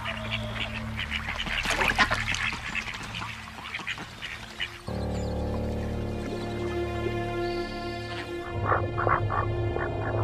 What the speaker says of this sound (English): the ducks focus on their own displays of dominance and bravado